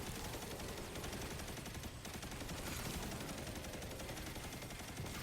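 Machine gun fire from the Heir Apparent in Destiny 2, a steady, loud, unbroken stream of rapid shots filling the whole stretch with no voice.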